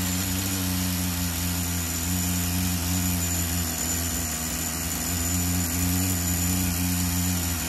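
Tamiya TGS-R nitro RC car engine, running close with its idle linkage in need of adjustment: a loud, steady buzzing drone with strong harmonic tones that holds throughout with no pauses and no talking.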